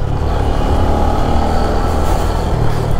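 A Yamaha PG1 motorcycle on a long ride, its engine droning loudly and steadily with wind rush, no voices over it.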